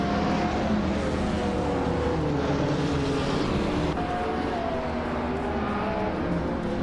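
Engine of a 2004 Koenigsegg CC 8S race car in a racing video game, a loud, steady, unbroken drone held for the whole stretch with no let-up.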